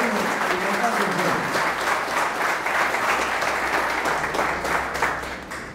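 An indoor audience at a business gathering applauds loudly and steadily with dense clapping for several seconds, fading slightly at the end, while a voice speaks over it.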